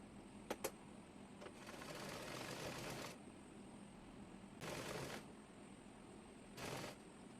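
A sewing machine stitches the ruffle fabric onto the lower hem of a child's frock made from fabric scraps, running in three bursts: one long run of nearly two seconds, then two short runs, each separated by quiet pauses.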